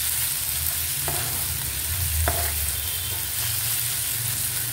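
Onions stirred and frying in a pan for a green chilli egg curry, a steady close sizzle throughout with a few light scraping stirs of the spoon, no voices.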